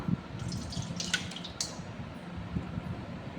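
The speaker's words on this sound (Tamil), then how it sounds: "இப்போ தயிரை ஊற்றிக்கலாம்" Thick curd dripping and plopping into maida flour for Mysore bonda, a few soft, wet drops and squishes, close and quiet, with no talking.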